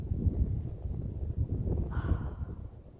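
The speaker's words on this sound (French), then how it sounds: "il y a un peu de vent" Low, blustery wind buffeting the microphone, a steady rumble with gusts and no voices.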